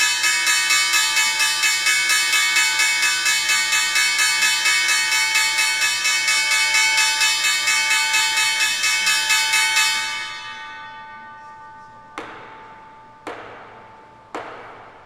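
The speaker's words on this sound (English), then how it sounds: "That really was the closing bell on Wall Street." The closing bell at the Wall Street stock exchange rings in a rapid, steady metallic trill for about ten seconds, then stops, followed by three separate loud gavel knocks.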